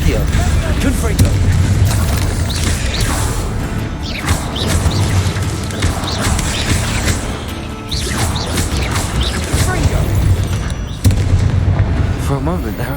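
A Confringo spell exploding in Hogwarts Legacy amid busy battle, with repeated crashing booms and smashes layered over dense game effects, loud and continuous across the stretch.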